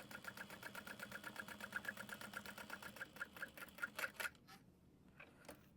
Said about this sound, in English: when I'm top stitching a zipper panel, I will start at the start of the finished edge